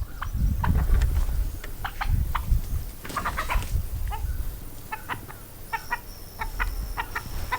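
A rooster's clucks and short calls sound repeatedly over a steady outdoor rumble, with scattered sharp bird vocalizations throughout.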